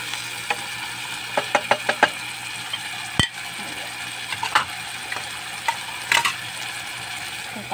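String bean adobo is stirred in a cooking pot, with scattered light clicks and scrapes of the utensil against the pot over a faint sizzle.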